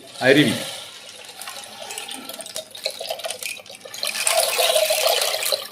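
Rushing, watery shimmer of grains pouring through a rain stick mimics a flowing stream, swelling louder toward the end, with people talking briefly at the start.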